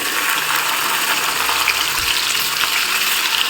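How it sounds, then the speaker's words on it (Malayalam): Steady, dense sizzling of sliced onion frying in hot oil, loud and continuous with faint stirring scrapes, no voices. "ഇതിലേക്ക് ഒരു സവോള തിന്നായിട്ട് അരിഞ്ഞിട്ട്"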